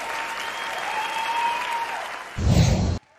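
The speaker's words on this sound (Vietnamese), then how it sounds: "một tràng pháo tay" A television gala audience at the results night of the singing contest Người hát tình ca 2017 applauds a top-three finalist. Thick, steady clapping runs over sustained background music, swells briefly, then cuts off abruptly.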